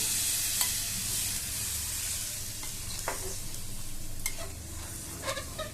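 Marinade water from the bowl is poured into a pan of hot oil with soybeans, making a continuous loud sizzle with a few faint clinks and scrapes of stirring.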